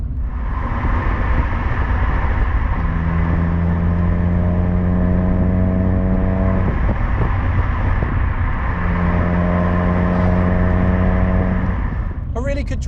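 A restored Ford Escort RS1600i with a 5-speed gearbox is heard from inside, its engine a loud, constant droning hum with a steady tonal whine that swells, drops away and returns as the car drives along.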